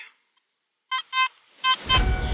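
A metal detector gives several short electronic tones during a dig for buried finds, with two sharp beeps, a pause, then further beeps as a rumble of handling noise rises underneath.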